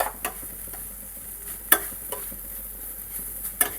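Grated carrot halwa cooking in ghee is stirred in a pan, heard as faint scraping strokes scattered over a soft background, with a few sharper spoon taps standing out.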